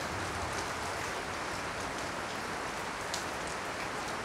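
Heavy rain drums on a tin roof at night, a dense, even, unbroken roar that stays loud from start to finish.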